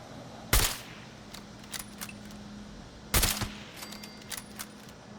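A hard-recoiling gun in Fallout 76 fires at targets at Grafton Steel Works: two loud, sharp bursts a few seconds apart, followed by faint mechanical clicks and rattles in a quiet background.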